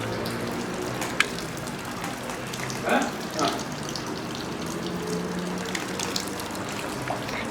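Beer wort drains from a brewing kettle in a steady watery trickle and gush, close and moderately loud, with a couple of brief splashier surges partway through.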